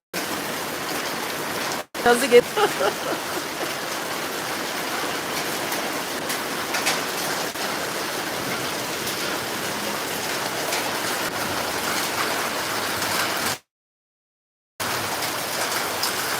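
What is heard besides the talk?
hail and rain falling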